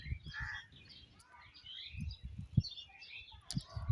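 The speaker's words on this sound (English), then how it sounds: "the crow is crowing, the crow is crying" Crows cawing and other birds chirping outdoors near village trees and a pond, calls overlapping at moderate distance with a few nearer harsh caws.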